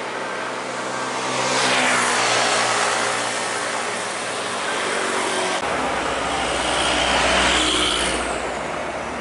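A large bus engine rumbles past nearby, swelling in loudness and fading, followed by another engine rising close by.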